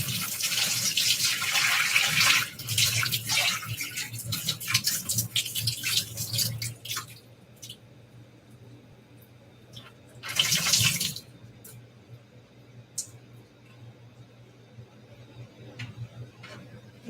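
Water runs into a kitchen sink while food is strained during weekend meal prep, a broad hissing stream that swells in bursts, fades, then surges briefly again before trailing off into quiet clinks and drips.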